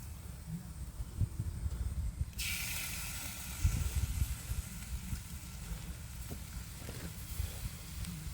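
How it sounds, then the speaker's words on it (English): Barbecue ribs sizzle on a charcoal grill, a steady close hiss that swells sharply partway through as the meat goes back over the coals, with no talking. "Let me go ahead and just get these back on the grill."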